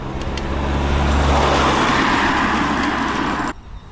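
Traffic on a big road in Albania rolls past a cyclist as a loud, continuous roar of cars and heavy vehicles with low engine rumble, ending abruptly into quieter wind noise.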